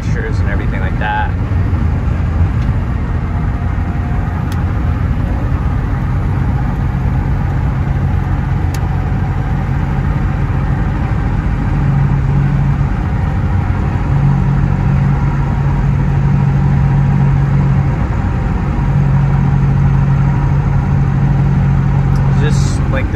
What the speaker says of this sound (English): Just like this droning vibration at speed, almost like it's from a driveline.